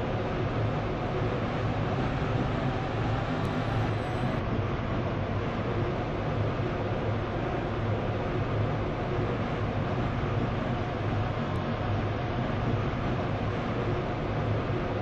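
Class 379 EMU train running in the Stepford rail video game, a steady low rumbling drone of traction and track noise, continuous and even throughout with no talk.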